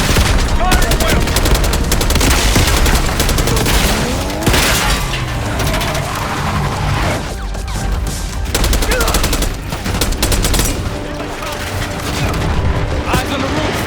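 Heavy gunfire in the Call of Duty Black Ops 6 campaign, a dense, loud fusillade of rapid overlapping shots and bursts with booming impacts, continuing without pause for the whole stretch.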